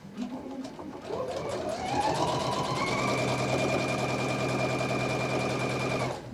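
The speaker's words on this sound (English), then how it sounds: "Let's sew a line of stitches" A Pfaff sewing machine revs up and stitches a line, its motor whirring steadily with a rapid rhythmic needle chatter, close and continuous over several seconds.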